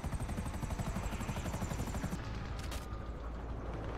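Video game helicopter firing on the player, a loud steady rotor chop with rapid bursts of gunfire layered over it for several seconds, a sharp crack near the end, no voices.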